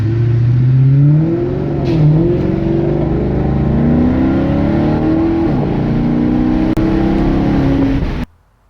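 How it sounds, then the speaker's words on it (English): A Maserati GranTurismo engine revs loudly and steadily, pitch rising and falling through gear changes, with a throaty exhaust note close by before cutting off abruptly. "You get to hear more of the exhaust."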